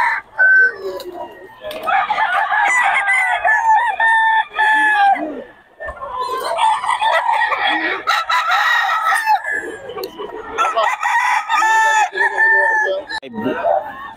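A rooster crows repeatedly in three long, loud, close bursts at a Bocaue market where a black hen is for sale, with clucking between the crows.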